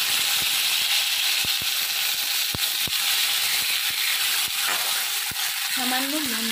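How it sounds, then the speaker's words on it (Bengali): Chopped tomatoes hit hot oil already seasoned with chillies, bay leaf and cumin and sizzle loudly and continuously, with sharp spitting pops throughout and a brief scrape of stirring near the end. "আমি এর মধ্যে টমেটো কুচোগুলো দিয়ে দিলাম।"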